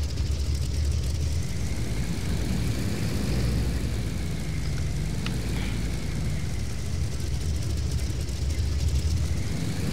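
An F7F Tigercat landing on a carrier in a flight sim game makes a steady, loud engine drone that rumbles unbroken from start to finish.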